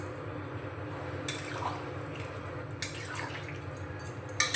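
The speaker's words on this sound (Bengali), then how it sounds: "পরিমাণ মতো জল দিয়ে দিয়েছি।" Water is poured from a vessel into a pan of sautéed jackfruit and potato curry, giving faint liquid splashes and trickles in a few short bursts over a low kitchen background.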